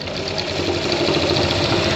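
A sewing machine stitches a shirt, giving a continuous close motor hum with a rapid knocking needle rhythm throughout. No voices are heard.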